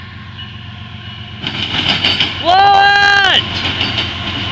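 A CSX eastbound intermodal freight train rolls past at Marion, Ohio with a steady rumble, while a horn sounds loudly for about a second mid-way. A voice speaks briefly.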